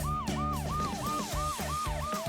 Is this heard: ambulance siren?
yes